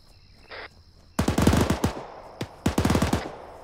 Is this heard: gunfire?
yes